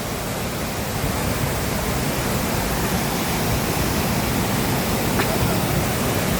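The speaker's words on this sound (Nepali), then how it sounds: "यता पनि छ झरना यता नि छ झरना" Waterfall at Lauke Jharana in Nuwakot, a steady broadband rush of falling water that stays constant and fairly loud throughout, with no other sounds standing out.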